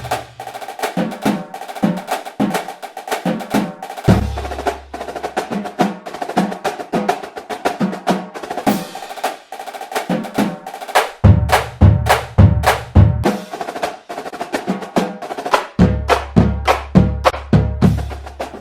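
Marching drumline with snare, tenor drums, pitched bass drums and cymbals plays loud, rapid rhythmic patterns, with unison bass-drum runs and sharp accented hits throughout.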